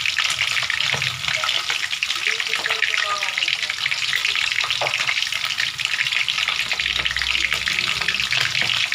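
Dried milkfish (daing na bangus) from Pangasinan fries in hot oil, a loud, continuous crackling sizzle close by with scattered pops, and brief talk in the background.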